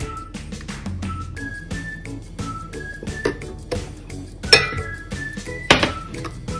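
Batter being whisked with oil in a bowl, rapid irregular clinks and scrapes of the whisk against the bowl, with a few louder knocks and faint whistling tones in the background.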